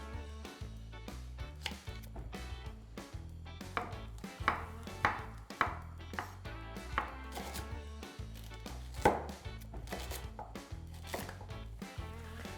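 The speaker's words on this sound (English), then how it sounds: "The shallots I'm just gonna cut very roughly as well." A knife chops roughly through shallots on a board for lobster bisque, a steady run of close, crisp thuds repeated many times with a few louder strikes along the way.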